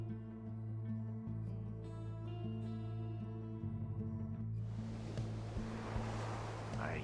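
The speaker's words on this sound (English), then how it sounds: "I hear the water." Waves and surf wash in from the Pyre video game, a soft continuous roll that swells into a louder broadband rush in the last few seconds, sitting beneath steady droning game music.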